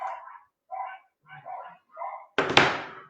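Several dogs bark outdoors in short bursts, four separate volleys spaced about half a second apart, then a louder, sharper bark close by at the end.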